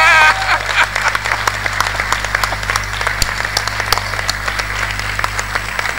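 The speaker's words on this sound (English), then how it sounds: "A round of applause for Chinelo" A conference audience in a hotel hall applauds, many hands clapping in a sustained, loud patter with individual sharp claps standing out, under a constant low hum.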